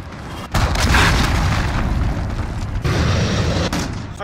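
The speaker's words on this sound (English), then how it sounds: "Enemy cruise missile incoming," Cruise missile detonation in Call of Duty Modern Warfare Ground War at Karst River Quarry: a loud booming blast rolls in after a brief lull, then a sustained rumbling roar and debris wash that stays heavy throughout.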